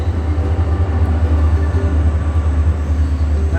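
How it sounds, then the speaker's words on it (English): A short, fairly quiet passenger commuter train rolls past on nearby tracks beside a hiking trail, a steady low rumble with rhythmic clatter sustained throughout. "Here goes a passenger car train."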